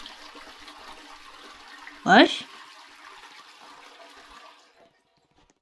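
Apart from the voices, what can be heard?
toilet flushing in Roblox video game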